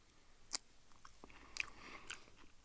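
Quiet crunching and biting of crunchy edible insects close up, a few crisp crackles spread over a couple of seconds with soft chewing between.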